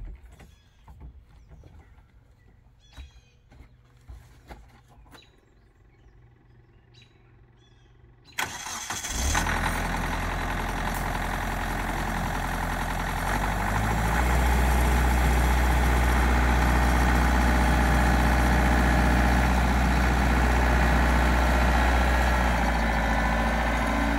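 Kubota LX3310 compact tractor engine starting and then running steadily under strain while lifting a 1000 pound load, a loud continuous rumble that rises slightly as the lift proceeds, preceded by quiet handling noises.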